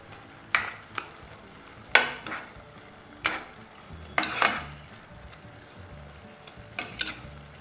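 Curry stirred and mixed in a pot with a utensil, several scraping clanks and scrapes at irregular intervals over a faint simmering sizzle, close by with no talking.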